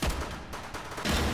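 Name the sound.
gunshot in the VR game Hot Dogs, Horseshoes & Hand Grenades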